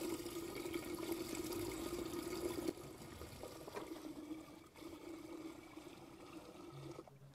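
Water is poured steadily into a yard drain, giving a faint, continuous splashing trickle that dips slightly partway through.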